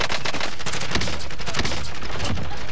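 Continuous dense automatic gunfire from a shooter video game, loud and unbroken throughout, sharp overlapping shots forming a relentless fusillade.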